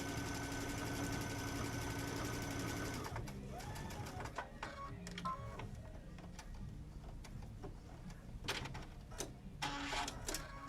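A sewing machine stitches fabric for a gift-basket project, its rapid mechanical whirring running steadily for about three seconds before stopping, followed by quieter handling clicks and taps.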